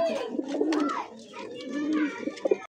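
Black Bombay pigeons cooing up close in a pigeon market, a soft, continuous throaty rolling coo with a few brief clicks near the end.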